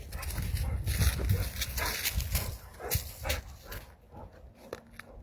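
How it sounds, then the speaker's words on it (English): A dog makes sounds at close range outdoors beside an old truck, with scuffling and a few sharp barks or yelps over a steady rumbling background, quieter toward the end. "My dog about to get in trouble because he keep messing with me."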